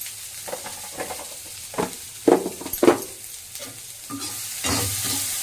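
Chopped big onions frying in a pan for a crab masala gravy, with a steady sizzle and several scraping stirs of a spoon building in the middle, close and fairly quiet, no talk.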